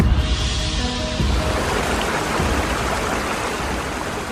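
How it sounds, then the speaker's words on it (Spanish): A mountain torrent rushes steadily in a loud, continuous, broadband roar of churning water, with no pauses and no voices. "Hasta pueden oír quizás el murmullo o el ruido de las aguas."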